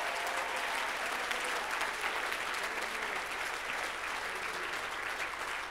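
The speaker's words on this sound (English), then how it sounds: "Clap for Jesus" Church congregation clapping for Jesus after a prayer, a loud, dense, continuous wash of applause that holds steady throughout with no speech over it.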